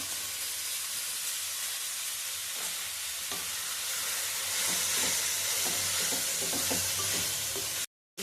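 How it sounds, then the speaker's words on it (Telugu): Sliced onions with salt fry in a pan with a continuous close sizzle and hiss, broken by occasional spoon taps and stirring scrapes, then cutting off abruptly at the end; no one speaks. "ఉల్లిపాయలు సెమీ మీద పెట్టి మంచిగా మగ్గించుకోవాలి"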